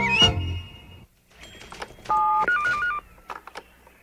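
Telephone tones and beeps in a children's TV scene, a short burst of sound followed by a series of electronic dialing and ringing tones, clear and close with pauses between them.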